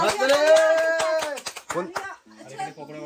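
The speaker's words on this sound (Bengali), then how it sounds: "হাততালি দাও।" Hand clapping in a lively home setting, several quick sharp claps in the first two seconds mixed with a voice and singing-like talk, then fading into background voices.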